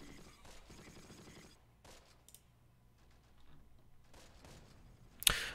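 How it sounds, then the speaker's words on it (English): A mortar round fires in the Close Combat wartime strategy game, arriving as one sharp, loud blast at the very end, after a stretch of quieter scattered distant gunfire. "Okay, that's a good mortar round there."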